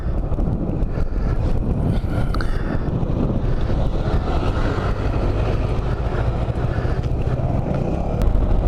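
A Suzuki Burgman 200 scooter rides east on Old Highway 76 out of Blue Ridge in early spring, its steady engine drone buried in loud, constant wind rush against the microphone, with no talk.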